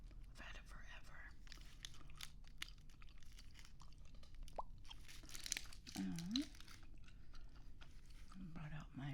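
Gum chewing on spooky eyeball Halloween gum, recorded close on a binaural microphone: soft wet crunches and smacking mouth sounds repeat irregularly throughout, with quiet whispered speech in between.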